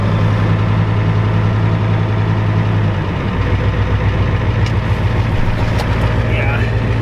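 Ford F250 with a 7.3 IDI diesel idling after a cold start on ether, a loud, steady low rumble with an even knocking pulse running throughout.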